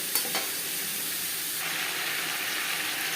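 Papaya pieces fry with salt and turmeric in a pan, a dense, continuous sizzle and hiss with a couple of light stirring knocks near the start.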